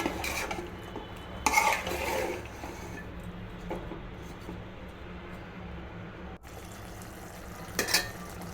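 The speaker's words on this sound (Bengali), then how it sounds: "নাড়তে থাকবো ভালো মতো, যেন মশলা সবগুলা সবজির মধ্যে গায়ে গায়ে লেগে যায়।" A spoon scrapes and clinks through a pan of spiced radish stalks and dried fish, with steady stirring, louder metallic knocks, and faint sizzling throughout.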